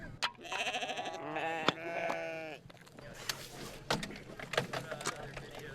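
Several goats bleat in overlapping, wavering calls at close range on a film set for the first few seconds, followed by scattered thumps, shuffling and background commotion.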